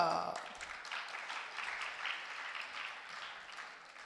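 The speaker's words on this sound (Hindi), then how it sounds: "ओह, कैसे ताली बजाई आप लोगों ने।" A large audience at a Digambar Jain monk's religious discourse claps steadily for about four seconds, a dense, even wash of many hands that rises and falls slightly and fades toward the end.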